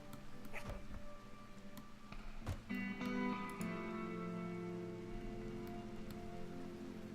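Steady rain falls over a swamp in the game Rimworld, a constant hiss of drops with scattered ticks and tonal game sounds layered on top, no talking.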